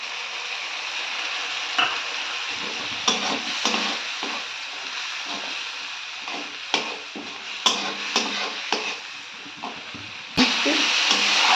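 Fish curry spice paste is stir-fried in a pan, giving a steady loud sizzle with repeated scraping stirs and occasional clicks. A louder burst comes near the end, and no one speaks.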